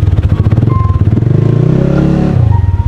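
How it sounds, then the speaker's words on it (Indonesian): A loud, close motorcycle with a noisy exhaust runs and revs steadily, its rough engine note rising and falling over about three seconds. "Berisik, knalpotnya."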